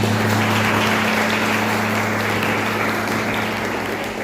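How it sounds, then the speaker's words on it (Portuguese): Applause from a live audience at a faith-themed podcast event, greeting Thalita as she joins the hosts; steady, dense clapping fills the whole stretch over a constant low hum. "Uma salva de palmas para a Thalita."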